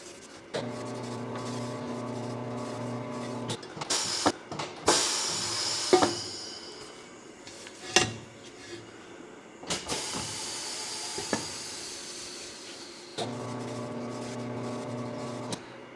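A degreaser is sprayed onto a wheel at a tire shop in several short, close hissing bursts, with quieter handling noises between them.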